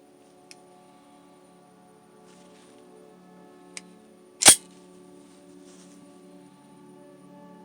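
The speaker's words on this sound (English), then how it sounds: "I use snap caps to check for firing," A Springfield Armory XDm10 pistol dry fired with a snap cap, a single sharp metallic snap of the striker, close and crisp, preceded by a couple of faint small clicks in a quiet room.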